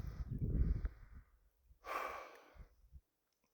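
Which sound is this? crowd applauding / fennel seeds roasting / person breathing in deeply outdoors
person breathing in deeply outdoors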